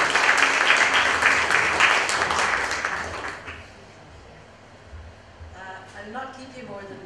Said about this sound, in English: Please give a warm round of applause for Carol Lamb, please.